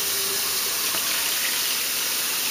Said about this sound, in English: So we're going to put a good bit of water in there